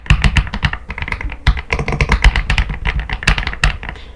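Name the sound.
typing on Aula F75 Pro mechanical gaming keyboard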